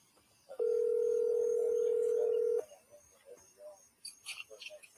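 A work cell phone plays a single steady call tone lasting about two seconds, loud and close, followed by quieter talk afterward.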